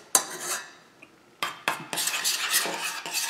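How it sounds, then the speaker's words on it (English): A knife stirring thick, crunchy peanut butter in a container for keto fat bombs, bursts of close scraping and clinking separated by short pauses. "I'm just going to go ahead and stir it with my knife"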